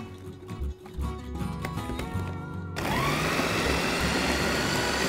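A blender grinding tomatoes and chili for sambal switches on partway through and roars with a steady, loud whirring grind after a few seconds of quieter kitchen noise.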